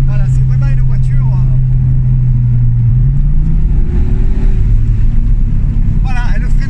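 An Audi TT RS mk3 accelerates hard on the road to about 130 km/h. A loud, close engine note climbs in pitch then settles into a throaty drone, with people talking inside the car throughout.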